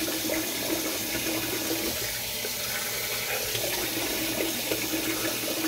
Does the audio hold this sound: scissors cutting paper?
no